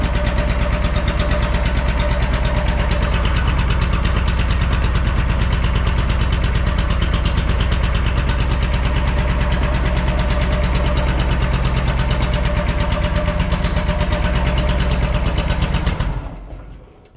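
A Wright Stander X mower engine with a blown motor runs rough on one cylinder, a loud, steady pulsing chug close by for about sixteen seconds before it cuts out abruptly and goes quiet.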